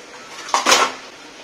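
A lid is lifted off a pot of simmering vegetables with patol, brinjal and ridge gourd, giving a single short metallic clank and scrape, moderately loud and close, with no one talking.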